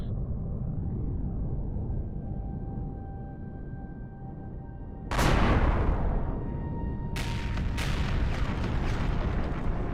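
Heavy weapon fire aimed at a vulture in the space survival game Empyrion Galactic Survival: a deep rumbling drone gives way to a loud, sudden blast near five seconds, then a second burst of fire and a sustained roar.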